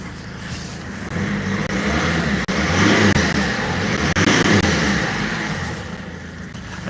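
A BMW car engine runs loud and close at an auction vehicle inspection, holding a steady rumbling idle with surges that rise and fall over several seconds.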